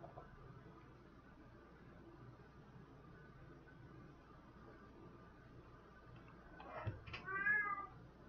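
A pet cat gives one short meow near the end, fairly faint and close against a quiet room hiss.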